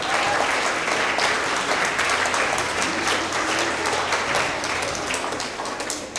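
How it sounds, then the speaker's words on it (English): A school award assembly audience gives a big round of applause, loud, dense clapping from many people that holds steady for several seconds before tapering slightly. "So let's give them a big round of applause"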